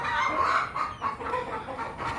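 Chickens cluck close by on a farm where turkeys sun themselves under an open roof, a short stretch of busy fowl chatter with no clear talk over it.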